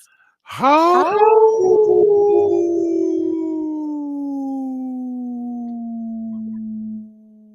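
A man imitates a wolf howl with his own voice, one long sustained note that starts with a rough attack, then glides slowly downward and holds steady for about six seconds before cutting off, loud and close.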